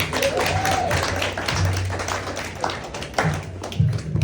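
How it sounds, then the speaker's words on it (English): An audience applauds at a Juneteenth community event, a spread of scattered, fairly close hand claps under crowd murmur. "can everyone clap for Ashley"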